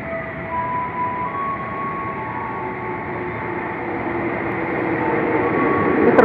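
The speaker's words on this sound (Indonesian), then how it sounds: "Nah, ini ya KRL yang ke Cibinong ya, Cibinong Nambo." A KRL commuter electric train runs at Depok Baru station in Indonesia with a steady, close rumble and faint tonal whines. The sound swells gradually louder toward the end, with no talking.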